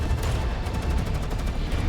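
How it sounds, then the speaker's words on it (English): Gunshots and explosions in a video game, a dense continuous volley of rapid shots and booms packed together, loud and close, with no voices. "more gunshots and explosions resound beyond the fortress"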